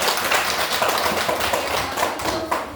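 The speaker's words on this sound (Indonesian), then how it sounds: "Oke, beri tepuk tangan untuk kelompok anggrek." Classroom applause for a student group's presentation: a dense, steady patter of many hands clapping together, loud and continuous, with no voices over it.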